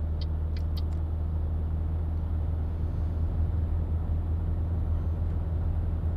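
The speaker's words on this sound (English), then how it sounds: "you can hear the truck restarting" A truck engine in Euro/American Truck Simulator rumbles steadily at low pitch, a continuous near drone with no voices over it.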